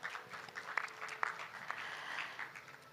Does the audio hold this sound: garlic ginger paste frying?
no